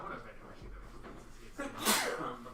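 A single sharp sneeze bursts out close by, partway through casual conversation, with people talking before and after it.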